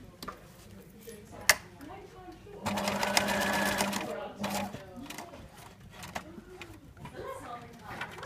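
Sewing machine stitching fabric in an art college workshop: a steady whirring run of about a second and a half in the middle, with short bursts around it and brief clicks and handling noises.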